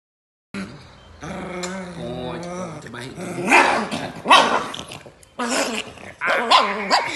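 A dog growls in a long rumbling snarl, then breaks into sharp, loud barks and snaps close by, with brief bursts of agitated noise.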